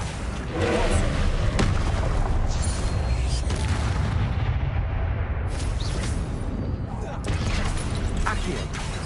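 Booming Confringo explosions from Hogwarts Legacy pound almost nonstop amid a chaotic spell barrage, dense thudding blasts layered with clatter and game noise throughout, with some speech mixed in.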